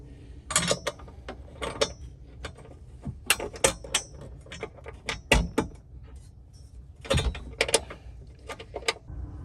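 Silver bolts going into the holes of a Steeda X-brace on a 2005-2014 S197 Mustang: irregular close metallic clicks, clinks and rattles of hardware and tools, in bursts separated by short quiet gaps.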